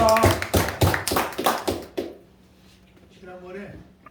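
A church congregation claps in quick, steady rhythm for about two seconds, followed by a short quiet gap and then a voice speaking briefly.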